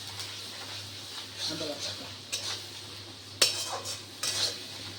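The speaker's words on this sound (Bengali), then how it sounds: "এবার দেবো আদা বাটা, এটা আবার একটু নেড়ে নেবো।" Ginger paste in a cooking pan is stirred with a metal spoon, producing faint scrapes and a few clinks against the pan, under quiet speech and a steady low hum.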